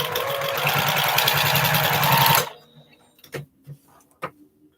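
A sewing machine stitches a postage stamp quilt top in a steady, fast mechanical whir for a couple of seconds, then stops abruptly, leaving a few faint clicks and taps.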